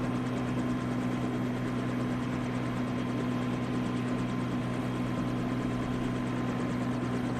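A helicopter in flight in a Turkish drama scene, a steady loud rotor and engine drone holding constant throughout with no talk over it.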